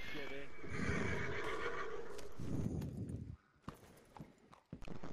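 A large horse whinnies loudly in Red Dead Redemption 2, a long rising and falling neigh up close, followed by a second shorter whinny, then hoof clip-clops and quieter game sounds.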